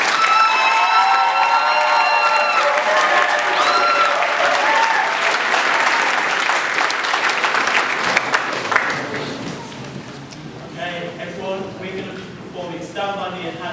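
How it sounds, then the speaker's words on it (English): Loud applause and some cheering from an audience at a cadet squadron's presentation evening in a barracks hall, dense for about nine seconds before fading as voices and talk take over. "Big round of applause."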